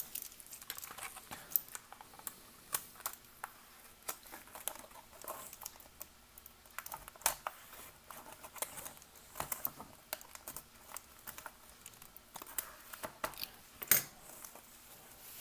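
A plastic MRE pouch of vegetable crackers being cut open, heard up close as a long run of small, soft crinkles and taps, uneven and quiet, with no talking.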